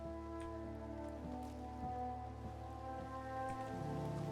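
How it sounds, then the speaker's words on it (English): Steady rain pours in the western roleplay game RedM, a continuous even hiss of drops with a low rumble beneath, with no talking over it. "It's pouring."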